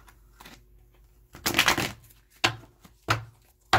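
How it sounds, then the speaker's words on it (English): Tarot cards being shuffled, with some difficulty, in short uneven bursts of papery riffling and taps. The sound is close and fairly quiet, and no one speaks. "Why am I having such a hard time shuffling these cards today?"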